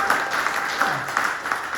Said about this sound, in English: round of applause for Grace for hosting this night tonight.